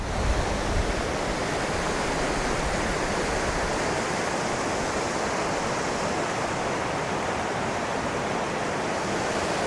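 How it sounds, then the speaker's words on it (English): Broad, steady rush of a large river in Scotland tumbling over many small falls, constant and enveloping with no voices, the roar holding even from start to finish. "As you can probably hear, like a load of little waterfalls."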